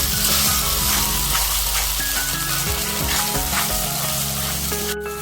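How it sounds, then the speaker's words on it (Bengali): Spice paste sautéing with reddened fried onions in a pan for a Bengali doi katla fish curry, giving a steady, close, loud sizzle and frying crackle with occasional stirring scrapes throughout. "এখন পেস্ট করে রাখা মশলাগুলিকে ঢেলে দেব। এখন ভালো করে কষিয়ে নেব।"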